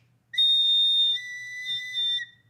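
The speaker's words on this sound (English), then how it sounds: "When you've finished and got your money, you whistle." A single loud, sustained whistle signal sounds in a radio drama, a bright steady tone holding for about two seconds before cutting off, heard alone without voices.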